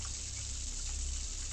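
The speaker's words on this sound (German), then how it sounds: "Wasser läuft hier." Running water from a tap left on in the ghost-hunting game Ghost Watchers, a steady hissing gush heard at moderate level throughout, with no talk.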